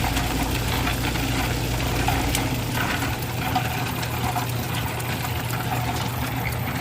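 A Raytech TV-5/TV-10 vibratory tumbler runs dry with no media noise damping, giving a loud, steady buzzing rattle with a low hum that continues evenly throughout.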